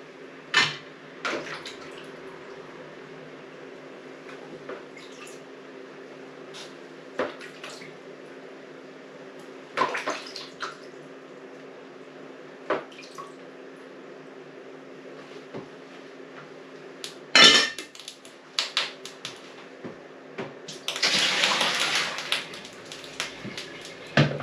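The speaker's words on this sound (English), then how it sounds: "So I'm gonna wash off these potato, then I'm gonna put them in the flour pan." Potatoes being rinsed and dropped into a cooking pan, with intermittent clinks and clatters of pots and utensils over running or splashing water, ending in a longer burst of water noise, fairly close with no talking.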